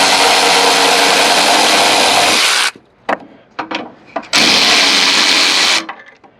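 A power tool whirs on a 15 mm bumper bolt during a 2003-2006 front end conversion on a 1999-2002 GMC Sierra, with a long loud burst, a few short clunks and bursts, then a second sustained run.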